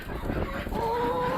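Chickens and roosters cluck and call inside a barn on a small farm, a steady close flock chatter with one bird's drawn-out tonal call rising clearly above the rest near the end.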